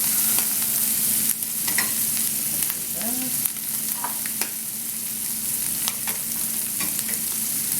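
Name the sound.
vegetables frying in bacon fat in a pan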